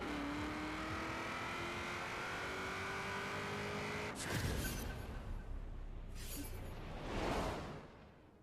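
An all-wheel drive 1932 Ford drag car in Forza Horizon 4 holds a loud engine drone with rising whine, then launches into a roaring burst of acceleration with quick gear-change surges.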